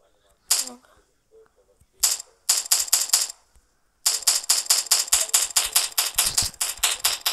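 Cartoonish gunfire in a Melon Playground-style mobile game: a few single shots, then quick bursts and a long rapid run of sharp snapping reports, loud and dry with silence between early shots.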